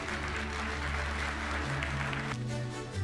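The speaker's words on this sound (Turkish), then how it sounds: "Bir kez daha alkış rica ediyoruz." Studio audience applauding after a call for more clapping on a Turkish evening news broadcast, steady dense clapping with a low musical bed underneath, ending in a brief shift near the close.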